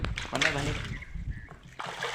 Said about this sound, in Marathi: पाणी काढताय बघा आपल्या मधलं पाणी